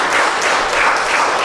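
Crowd applause at an anniversary celebration held in an arena, a steady dense wash of clapping hands sustained throughout without a break.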